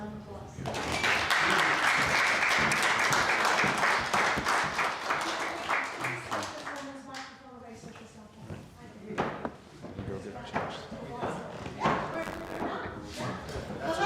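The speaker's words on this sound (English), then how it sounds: "I think we give these guys a round of applause." A room of people at a general meeting gives a round of applause, loud dense clapping that swells quickly, holds, then thins into scattered claps and a few thuds as it dies away.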